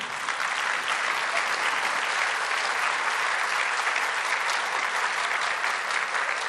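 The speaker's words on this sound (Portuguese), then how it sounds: "o senhor merece o aplauso do Brasil inteiro" An audience applauds minister Ernesto in Brazil, a dense, loud, continuous wash of clapping that holds steady throughout without any voices on top.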